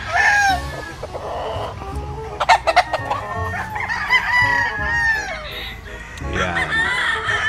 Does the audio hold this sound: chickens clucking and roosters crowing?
yes